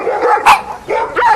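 A pack of cartoon dogs barks while giving chase, loud sharp yelps and barks in three quick bursts with brief gaps, close and alone without talk.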